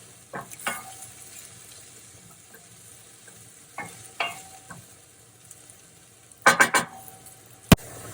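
Onions and spaghetti crisp in a hot pan with a low, quiet sizzle, broken by several loud bursts of stirring and clattering tosses, and one sharp knock near the end.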